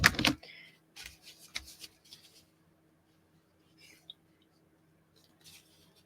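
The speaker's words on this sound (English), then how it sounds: "I'll try these scissors. Those are a little sharper." Sharp scissors cut a 12 x 12 sheet of craft paper in a few crisp, close snips clustered together, followed by a long quiet stretch with only faint rustles.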